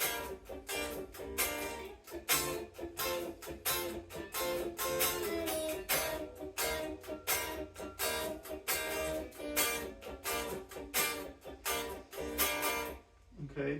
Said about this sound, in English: Now the chorus is very funky. We've got a lot of staccato playing and kind of percussive notes.